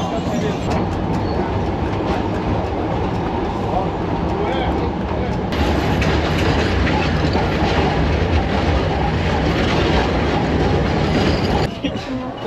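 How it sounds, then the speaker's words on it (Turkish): Rumbling tram noise in Alexandria, Egypt, with a continuous low roar and faint rhythmic clatter, heard from inside, with voices talking over it. "tramvay."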